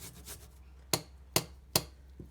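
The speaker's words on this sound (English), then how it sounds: "we can grate off about 1/4 teaspoon" Freshly peeled ginger grated on a fine grater, heard as a handful of short, close rasping strokes, with three sharper scrapes in a loose rhythm and no talking.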